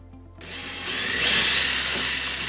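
A power drill boring into drywall, starting after a brief low hum and rising to a steady, fairly loud grinding whir that holds for about two seconds, with dust being collected beneath the hole.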